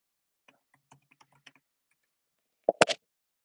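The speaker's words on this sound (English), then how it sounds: "Oh, I really can't type today." Computer keyboard typing: a scattering of faint, light key taps followed by a few louder, sharper clicks near the end, close and alone with no voices.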